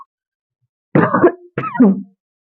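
Two short, harsh coughs close to the microphone, separated by a brief pause, in an otherwise silent space.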